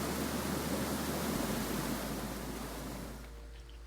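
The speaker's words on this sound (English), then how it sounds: "That waterfall is still very loud." A steady, loud rush of falling water from a waterfall in the video game Graveyard Keeper, broad and unbroken, easing slightly near the end.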